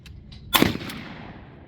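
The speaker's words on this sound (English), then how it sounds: "we had our first trap shooting practice for the new club" A single shotgun blast at a school club's trap shooting practice, one sharp report with a lingering outdoor decay, heard alone without talk.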